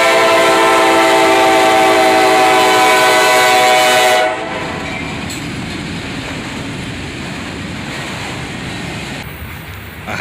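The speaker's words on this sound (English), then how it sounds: "we've got a shiny SD-70 Mac leading" A train led by a shiny SD70MAC locomotive rumbles past close and loud, with a horn blast early on, then settles into steady rolling car noise that fades somewhat.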